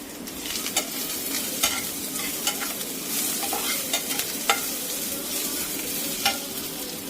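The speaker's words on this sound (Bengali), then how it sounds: "এটা পেঁয়াজ আর লঙ্কাটাকে ভাজি" Onion and green chilli frying in a pan, a dense close sizzle broken by repeated scraping and stirring clatters of a spatula against the metal, with no voices.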